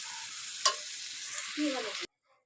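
A poppy seed and mustard paste with a little sugar sizzles in a pan for about two seconds, with a single sharp tap of stirring, then abrupt silence.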